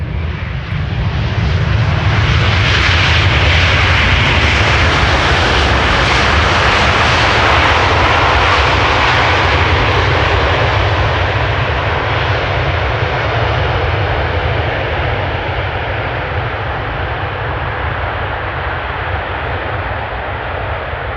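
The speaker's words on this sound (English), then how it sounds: "Delta Airlines, Flight 74, A330 Neo, arriving from Atlanta," Delta Airlines Airbus A330neo jet arriving at Schiphol Airport, a loud roar that swells as it passes close and then slowly fades, with no voices.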